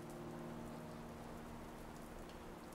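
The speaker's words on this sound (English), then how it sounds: "and the rain" Steady rain falls outside, a dense, even hiss of drops that continues without a break for the whole stretch, with no voices.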